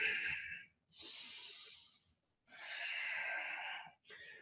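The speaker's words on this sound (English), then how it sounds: "Make sure that you can hear the sound of your breath." Deep, audible nasal breathing during yoga: slow, airy inhales and exhales alternate in long, steady strokes with short pauses between them, close and fairly quiet.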